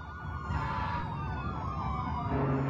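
Police car sirens wail in the city-building game SimCity 2013, overlapping rising and falling tones sounding steadily at moderate volume over a low traffic rumble.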